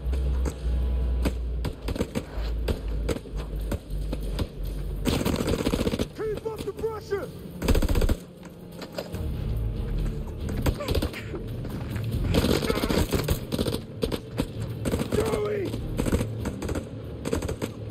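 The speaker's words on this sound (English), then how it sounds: "Ooh, almost got shot there" Rapid bursts of machine-gun and rifle fire crackle through a tense combat scene in The Dark Pictures House of Ashes, loud repeated volleys with dense impacts, and a voice talks briefly among the shots.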